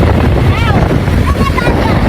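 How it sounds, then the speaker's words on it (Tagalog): Strong, roaring wind in a park buffeting the microphone, loud and continuous, with muffled voices underneath. "sobrang lakas ng hangin dito sa may park"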